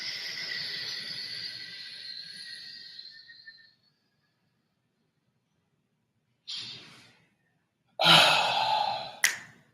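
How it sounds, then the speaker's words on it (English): A long exhaled breath during a kettlebell floor workout, a soft airy sigh lasting a few seconds, followed after a pause by a couple of shorter breaths or gasps, close and fairly quiet. "And exhale out."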